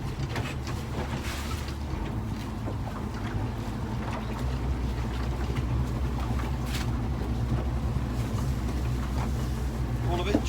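Steady, fairly quiet drone of a fishing boat's engine at sea while shooting nets, rising slightly in revs, with wind noise and people talking over it.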